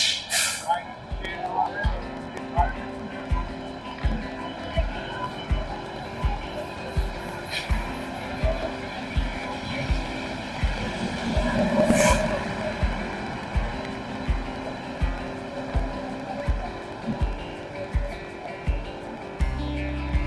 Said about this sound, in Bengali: লোকোমোটিভ তো এই ইঞ্জিনটাই কিন্তু আমাদেরকে নিয়ে যাবে আজ ব্যাঙ্গালোর